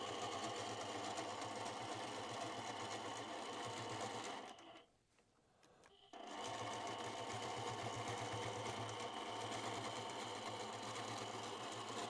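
Innova quilting machine doing freehand quilting on a table runner buzzes rapidly and loudly nearby, pausing briefly for about two seconds midway before resuming its steady stitching drone.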